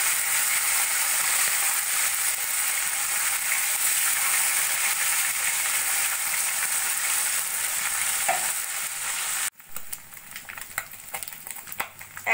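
Parshe fish fry in oil with a steady, close sizzle that fills most of the clip. The hiss then drops suddenly and gives way to scattered clicks and spatters as the pieces are turned over. No one speaks.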